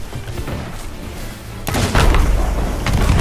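Heavy ship cannon booms in the game Sea of Thieves go off in a rapid volley, thudding blasts layered with crackling impacts, loud and close, with a constant rumble of battle underneath.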